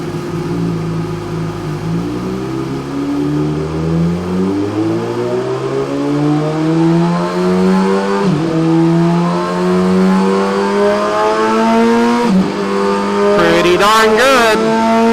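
A 2017 Suzuki GSX-R1000 S2B motorcycle on a ride, its engine revving loud and close, the pitch climbing steadily through the gears with a few brief dips between shifts.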